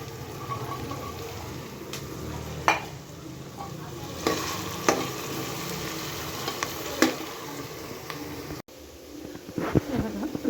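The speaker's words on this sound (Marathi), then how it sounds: "लाल मिरची पावडर, गरम मसाला, हळद कुकरमध्ये टाकून घेऊ. चांगल्या प्रकारे फ्राय करून घेऊ." Soaked soybeans fry with red chilli powder, garam masala and turmeric in a pressure cooker for masala rice, a steady soft sizzle broken by scraping stirs of a spoon against the metal pot.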